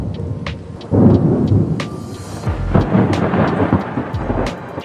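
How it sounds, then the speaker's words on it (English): A thunderstorm with distant thunder rumbling low and rolling under steady rain, with a heavier swell of rumble partway through and a few sharper cracks over the rain's constant hiss. "Though hear that distant thunder."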